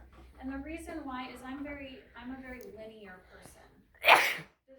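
One sharp, loud sneeze bursts out near the end in a classroom, following a stretch of steady talking.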